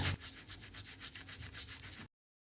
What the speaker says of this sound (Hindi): इस तरह से इसको हम साफ करेंगे पुरानी ब्रश की मदद से, और थोड़ा सा गीला करेंगे